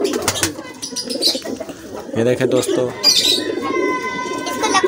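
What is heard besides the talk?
pigeons cooing in cages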